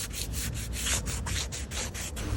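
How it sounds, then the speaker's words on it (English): Wet sanding with 220-grit sandpaper on a scooter windshield vinyl, about ten quick back-and-forth strokes in a steady rhythm with a soft, gritty rasp, close and fairly quiet. "And now wet sanding with 220."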